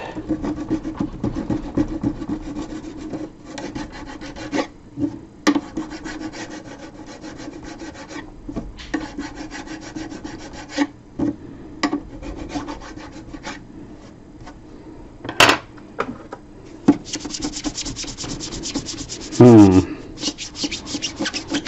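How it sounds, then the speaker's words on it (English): Repeated scraping strokes of a tool against a wooden Pye PE39U radio cabinet, lifting off excess wax filler; close, rasping rubs come in irregular bursts with brief pauses, with a squeakier scrape near the end. "Just try and scrape off the excess wax."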